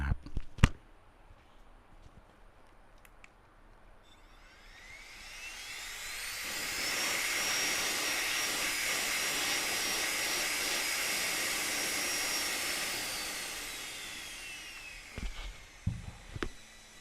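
Jisulife Ultra 2 electric air blower cleaning an AirPods case, a loud steady high-pitched whirring blast that spins up, holds for several seconds and winds down, with faint handling clicks before and after.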